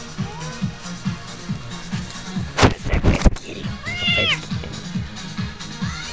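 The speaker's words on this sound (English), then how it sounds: "Time to go play with the kitty." A cat meows several times up close, with rising and falling cries over a repetitive low background rhythm and a burst of rustling handling noise midway.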